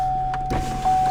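Aftermarket power window motor in a single cab truck whirring steadily at close range, a continuous electric hum that runs the whole time with no talk over it.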